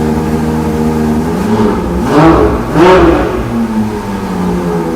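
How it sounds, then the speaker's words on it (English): A front-engined Ferrari V12 revs twice in quick succession, rising to a loud roar and falling back to a deep idle rumble between blips. "Front engine V12, it's oh my God. Can I rev it a little bit?"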